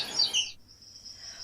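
A white-throated kingfisher gives a brief, high, shrill chattering burst that fades into a thin trailing note, short and fairly close against quiet background.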